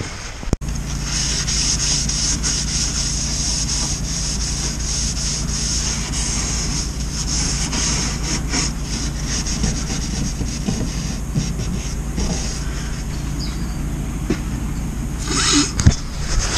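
Hand sanding new wood, a steady rough scratching rub with long back-and-forth strokes, close and loud, carrying on throughout with no talk.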